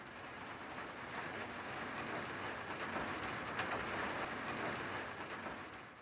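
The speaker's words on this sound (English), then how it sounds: "Starting to feel a little bit of raindrops." Light rain falls steadily in a country garden, a soft continuous hiss of drops on surfaces that stays even and fairly quiet throughout, with no voices.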